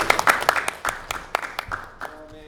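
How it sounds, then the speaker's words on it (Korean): Scattered, thinning handclaps from a small audience at an academic philosophy conference in Korea, with a few sharp individual claps tapering off. "다시 한번 박수 부탁드립니다"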